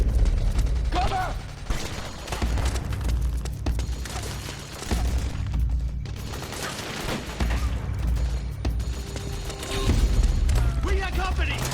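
Suppressing gunfire rattles in Metal Gear Solid 4: Guns of the Patriots, dense loud bursts and booms filling the scene while soldiers shout over the combat.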